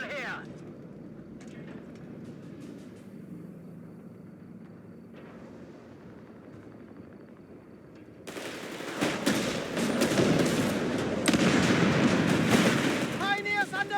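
Gunfire and battle explosions rumble in the World War II strategy game Company of Heroes 3 in a North Africa setting, starting subdued then swelling into dense, loud bursts of shooting and blasts, with game voices shouting over it.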